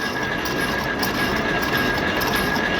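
A tractor engine runs steadily and loudly nearby, a continuous dense rumble with a thin whining tone on top and no talk.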